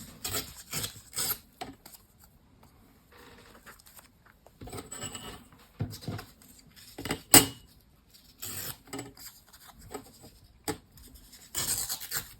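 A pen scratches across a paper envelope while a name is written by hand, short bursts of dry scribbling strokes separated by pauses, close and fairly quiet.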